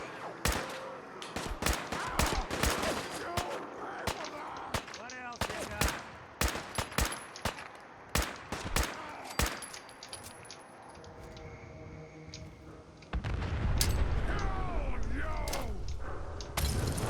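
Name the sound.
explosions and gunfire in a video game (Fallout, Commonwealth)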